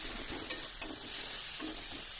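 Tomato with turmeric and chilli powder frying in a pan, a steady close sizzle with a few soft stirring scrapes breaking through at intervals.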